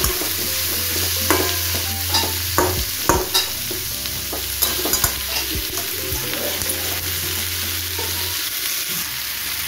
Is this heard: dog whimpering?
no